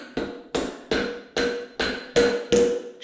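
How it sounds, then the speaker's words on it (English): A hammer drives the axle out of a Harley-Davidson Sportster motorcycle fork, landing eight loud, evenly spaced metallic blows about every 0.4 seconds, close and ringing. "this is the fun part where I get to hit the axle out"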